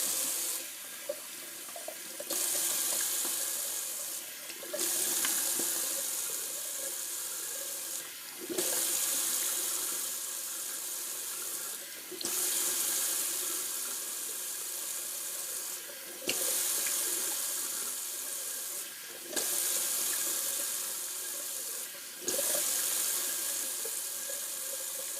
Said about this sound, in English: while I got the sink running, I might as well do a cold water rinse